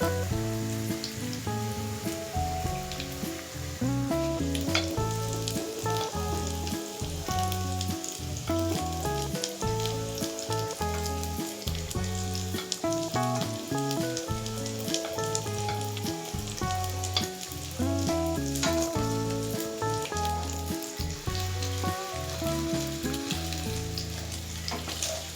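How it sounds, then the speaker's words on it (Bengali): Chicken kofta balls fry in hot oil over medium heat, a dense, steady crackling sizzle close by, with occasional stirring and no talk. "এবার মিডিয়াম হিটে 6 মিনিট কোফতাগুলোকে ভেজে নেব।"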